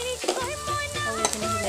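Onion, garlic and spice masala stirred in a pan, a close bright sizzle with quick scraping strokes of the spoon over a low steady hiss.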